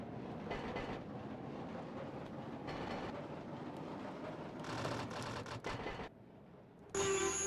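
A Hakodate tram, type 710, rumbles and rattles as it gathers speed in a train-driving video game, its rolling clatter steady and loud, ending with a high electronic tone.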